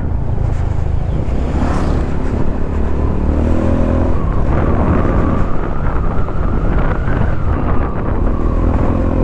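Motorcycle engine on the move during a ride in Mindoro, Philippines, a steady loud drone with shifting pitch and revving, mixed with heavy wind buffeting against the microphone throughout.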